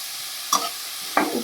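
Onion, capsicum and carrot pieces salted and frying in a pan, two brief scraping stirs over a faint background sizzle, no voices.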